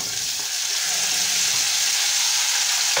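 Arracacha root (mandioquinha) added to a hot pan where something has already browned, giving a loud, steady, close sizzle and frying hiss that holds evenly throughout.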